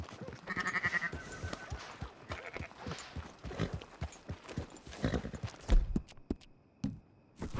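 Horse hooves clip-clop in an irregular rhythm on a dirt path in the Red Dead Redemption 2 game, a moderate, close series of knocks with bleating livestock and brief talk around them.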